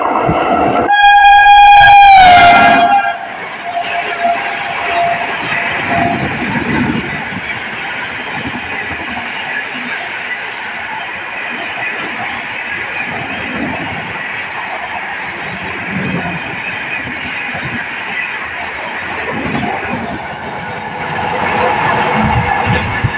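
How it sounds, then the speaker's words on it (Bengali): A train arriving at Begunkodar railway station in Purulia, opening with a loud horn blast, then a long steady rumble and clatter of wagons rolling past close by. "ট্রেন এবার আসবে, ট্রেন আসার সময় হয়ে গেছে।"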